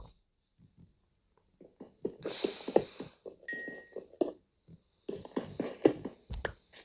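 Blocky pickaxe hits on coal ore in Minecraft, a run of quick clinking taps with a few brighter glassy chimes, mid-close and moderately loud, with gasps and breathing between.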